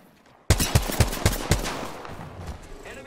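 Rapid gunfire bursts from a shooter game, Apex Legends, about five sharp evenly spaced shots near and loud, trailing into a decaying echo, with almost no talk.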